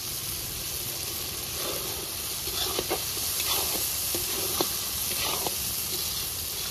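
Green chillies going into a sizzling duck curry masala, village style, a continuous close hiss and sizzle with a few sharp stirring clicks and scrapes, no talking.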